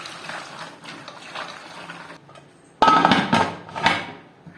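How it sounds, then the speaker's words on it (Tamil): Water pours into a pressure cooker holding salted peanuts set to boil, a sudden splashing, clattering rush starting partway through and then surging again, loud and close after a quieter stretch of low kitchen noise. "சேர்த்துட்டு இது வேக வைக்கிறதுக்கு நம்ம தண்ணி சேர்த்துக்கலாம்."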